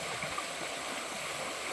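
A shallow, cool river with a sandy bed flows in Borneo, its steady broadband rush continuing evenly throughout at moderate loudness with no voices over it.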